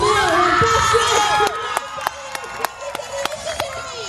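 A crowd at a demolition derby cheers and shouts, loud and close at first then thinning into scattered yells, whistles and sharp claps as an announcer's voice is heard.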